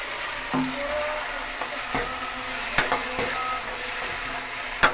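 Onions and tomatoes fry in a pan for a homestyle dish, with a continuous close sizzle and occasional clinks of a stirring spoon against the pan.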